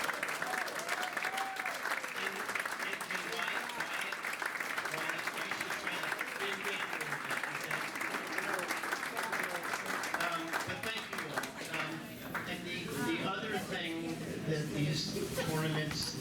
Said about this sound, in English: we'd like to give you a really nice warm hand of applause